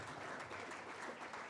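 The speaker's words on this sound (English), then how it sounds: "with a clap, with an applause, let us welcome Mr. Kofi Owusu." Steady, dense applause from an audience welcoming a speaker at a public forum on combating misinformation, sustained at an even level with no talking.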